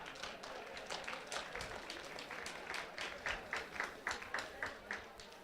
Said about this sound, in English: If you can hear me, clap your hands.